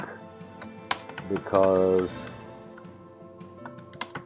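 Rapid clicking of fingers typing on a computer keyboard, close and irregular, with a voice speaking briefly over the keystrokes.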